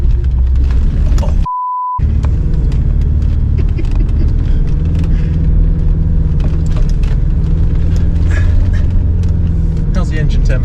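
A Mitsubishi L200 pickup driving off-road on a test course, its engine rumbling continuously with bumps and rattles, heard from inside while people talk over it; a short bleep interrupts near the start.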